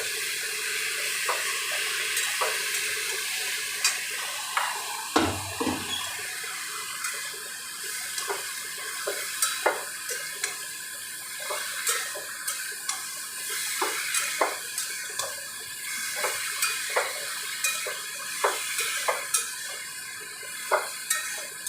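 Ridge gourd frying in a pan with onion, salt and turmeric, a soft continuous sizzle broken by repeated light clicks and scrapes of a spatula stirring, one louder knock near the start, no talking.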